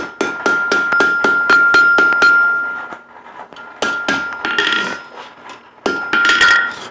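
Hammer blows on hot steel at an anvil while forging a rounded spade shape for a spade hook: a quick run of about eight sharp ringing strikes, a pause, then several more loud clanging hits, close and with no talk.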